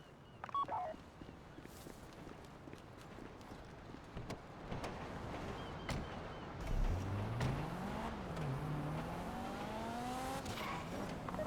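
A car engine in the GTA video game drives and revs, rising in pitch as it accelerates, with game background sounds and occasional beeps throughout.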